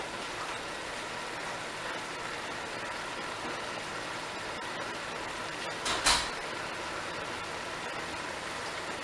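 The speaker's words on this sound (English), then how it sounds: "I had to go and close the door" A door is shut in a home kitchen: a single short thud partway through, over a steady background hum.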